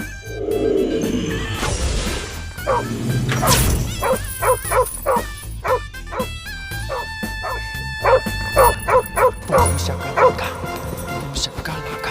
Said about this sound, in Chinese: 你看那只狗被铁链子拴着